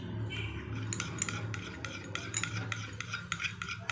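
Lemon being stirred into a sauce in a bowl for spicy fried chicken, steady scraping and rubbing strokes of a utensil against the bowl in a regular rhythm, close and alone without talk.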